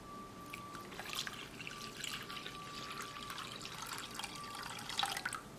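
Water trickles and splashes into a pot with brown sugar, a light, steady pour heard up close with no talking.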